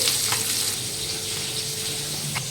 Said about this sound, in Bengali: আমি এখানে মাছ ভাজা বসিয়ে দিয়েছি